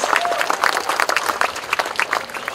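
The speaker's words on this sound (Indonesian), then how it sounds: "kita beri tepuk tangan sekali lagi untuk pameran Flona 2019" Crowd applause at the opening of the Flona 2019 flora and fauna exhibition in Jakarta, a steady burst of many hands clapping, close and fairly loud, with faint voices beneath.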